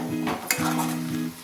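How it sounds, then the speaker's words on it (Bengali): Onion and garlic paste hits a pan for white liver curry, frying with a soft sizzle under quick metallic scrapes and clinks of a spoon against the pan. "এবারে আমি পেঁয়াজ রসুনের পেস্টটা দিয়ে দিই।"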